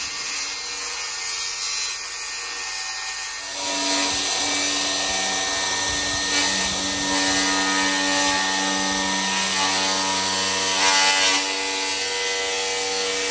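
A power saw whines steadily as it rips a door lengthwise, a long continuous pass, loud and close, after a brief quieter start.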